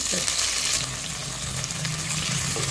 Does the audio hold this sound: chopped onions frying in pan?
yes